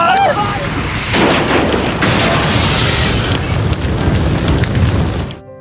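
A large explosion set off when a thrown Molotov cocktail lands among homes, a loud sustained roar and crackle of blast and fire that rumbles on for several seconds before cutting off abruptly.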